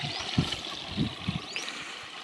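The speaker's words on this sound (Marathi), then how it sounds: "थांब पाणी ओतायचं त्यात" Water splashes and pours into a bucket mixed with pesticide, with soft irregular gurgles and a few louder splashy bursts, fairly close and quiet.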